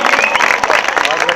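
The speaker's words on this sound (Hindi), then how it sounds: "तो एक बार जोरदार तालियां फिर से हो जाए उनके लिए" An audience at a celebration for a Paralympic medal winner, Varun Bhati, breaks into loud, dense clapping with some cheering, a continuous wash of applause heard up close.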